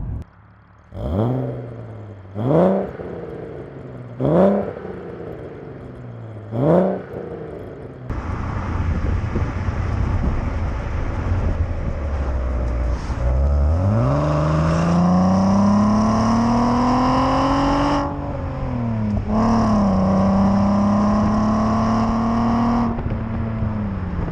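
A Mk1 Audi TT with a V6 engine gives four short, sharp throttle blips, then pulls away loudly, revving up and down through the gears as it drives off close by, with no talking.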